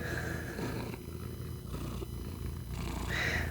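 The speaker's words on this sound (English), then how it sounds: "Just purring and wanting scratches." A contented cat purrs steadily and close while being scratched, a soft low rumble that dips briefly in the middle before swelling again, with no talking.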